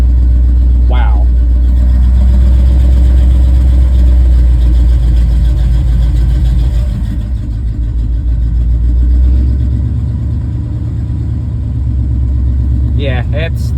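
A Chevrolet C20 truck idles loud and close after a cold start, its engine a heavy, steady low rumble with a slight lope. It eases briefly midway, then settles back, with faint squeaks near the start and end.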